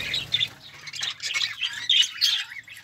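Parakeets squawking and chirping in a breeding aviary, a dense chorus of shrill, overlapping calls, close and loud, with no talking.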